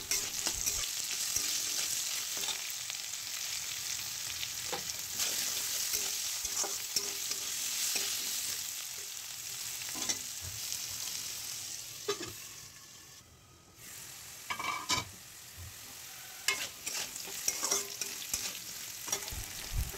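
Diced potatoes fry with salt and turmeric in a covered pan, a steady close sizzle running throughout, punctuated by occasional stirring scrapes and clinks.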